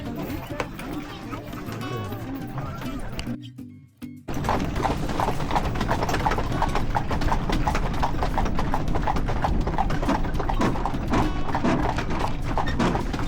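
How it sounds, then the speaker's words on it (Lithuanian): Two horses pull a wooden cart along a wet road in Poland, their hooves clip-clopping in a steady, dense rhythm close by, with a brief pause midway and voices talking over the hoofbeats. "Mūsų vežimas varomas 2 arklio galiom."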